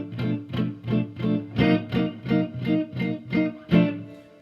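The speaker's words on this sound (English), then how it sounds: "So the first form of the ninth chord sounds like this." An electric guitar strums a G ninth chord in a slow blues rhythm, about ten evenly spaced strokes, each ringing briefly with a slightly distorted, effected tone.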